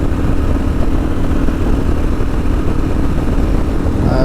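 A Kawasaki KLR motorcycle engine held steady at about 5,000 rpm while cruising at 120 km/h, a continuous loud drone mixed with rushing wind noise, with no pauses or changes.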